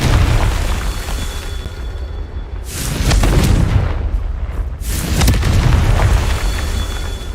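Confringo spell blasts in the video game Hogwarts Legacy, two loud booming explosions a couple of seconds apart, each rumbling out over a constant dense game background.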